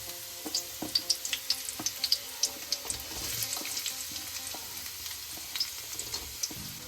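Onions fry in a pan for chicken chilli, with a continuous hiss of sizzling oil and a quick series of sharp utensil clicks on the pan early on that thin out into softer stirring.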